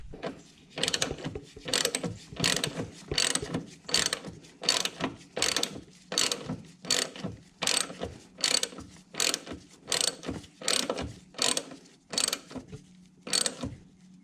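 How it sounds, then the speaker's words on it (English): Ratchet tool clicking in a steady run of about sixteen sharp ratcheting strokes while compressing the front strut suspension on a BMW during a DIY strut replacement, close and loud with no talk. "So I could properly tighten up the strut tower nuts, I'm compressing the suspension."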